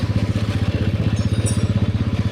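Motorcycle engine running steadily after a repair, a close, loud, even low-pitched throb with rapid regular pulses throughout, no talking.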